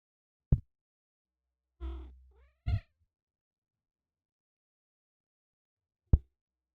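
A cat lets out a few short chirps and a brief trilling meow, spaced apart with silence between them, close by.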